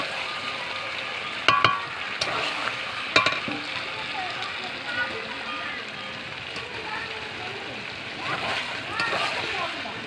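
Chicken curry stirred and fried in a pan over a clay earthen stove, oil separating from the meat, giving a steady sizzle with a few sharp spoon clanks and scraping, moderately loud, no talking.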